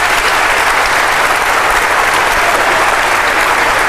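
Audience at an evening town hall panel discussion in a church applauds steadily and loudly throughout, a dense, even wash of clapping with no talk over it.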